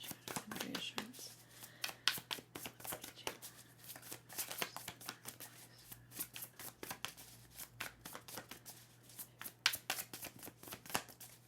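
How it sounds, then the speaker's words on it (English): Tarot cards being shuffled by hand during a reading, producing a long run of crisp riffling and slapping bursts, close and fairly quiet, over a faint steady hum. "apparently I wanted to shuffle this 3 times"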